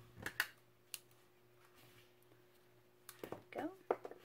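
Scissors snipping ribbon on a tropical-themed treat bag, a few quiet, crisp clicks close up, with soft rustling and handling in between.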